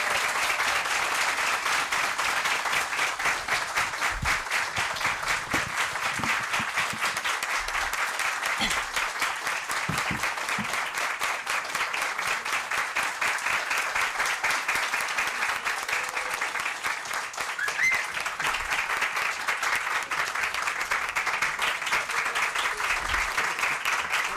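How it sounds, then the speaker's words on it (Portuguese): A convention audience applauds a pharmaceutical team with sustained, dense clapping that stays steady and loud for over twenty seconds, with some voices mixed in. "Eu queria pedir os aplausos para essa equipe maravilhosa que fez o UOL Farmacêutico."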